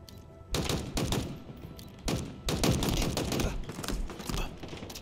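Dense gunfire from a Halo Infinite multiplayer match, with rapid bursts and sustained automatic fire that come in loud waves from close range, mostly free of talk.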